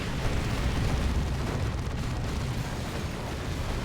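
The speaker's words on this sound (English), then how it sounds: "there's a very nice barrage again" Dense, continuous rumble of artillery barrage explosions from the Dawn of War 2: Retribution real-time strategy game, overlapping booms and bursts forming a loud, steady roar with no talk.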